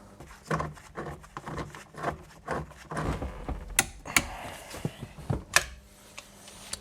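A steering wheel bolt being tightened to 63 Nm during airbag parts replacement: a close series of quick ratcheting clicks and mechanical ticks, irregular in rhythm, fairly quiet, with small knocks of the tool.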